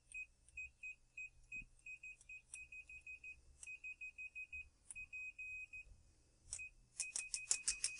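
A Fluke 177 multimeter in continuity mode chirps as its probes touch, giving a string of short, clear beeps, one longer tone, then a rapid burst of beeps at the end, all faint against a quiet room.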